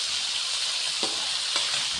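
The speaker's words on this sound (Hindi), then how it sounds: "अदरक लहसुन भी भून लूँगी।" Chopped ginger and garlic frying in oil in a pan alongside browning onions, a steady close sizzle with a couple of faint stirring knocks and no voices.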